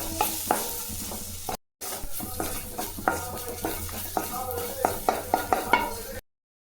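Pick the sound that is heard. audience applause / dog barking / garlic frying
garlic frying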